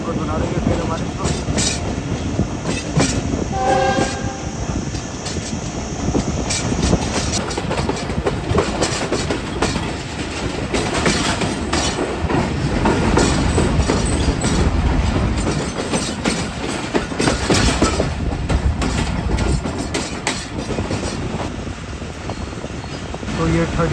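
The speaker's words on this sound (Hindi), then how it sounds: "तो ये 13 अब अवाम एक्सप्रेस भी अप्रोच बना रही है इस वक्त लाहौर कैंट रेलवे स्टेशन पर" The Awam Express approaches Lahore Cantt railway station with a dense, continuous rumble of rolling wheels and rhythmic clacking over rail joints, loud and close throughout.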